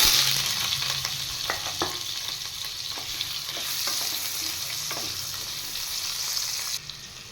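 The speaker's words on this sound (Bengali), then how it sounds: "এবার আমি কেটে রাখা আলু আর কচু একসাথে ভেজে নেব" Cut potatoes and taro frying together in a pan, with a steady bright sizzle and scattered stirring clicks throughout, alone and close.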